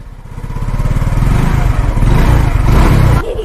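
A motorcycle engine revs and pulls away on a morning ride to work in Garoua, loud and close with a throbbing putter that builds steadily, then cuts off abruptly near the end.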